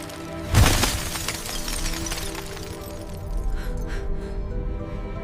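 AI-generated effect of glass shattering, one sharp, loud burst of breaking glass followed by a scattering tinkle of shards over a low rumbling backdrop with no speech.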